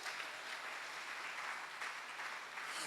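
A church congregation applauds and acclaims God during a Sunday service, steady distant clapping filling the whole moment without pause.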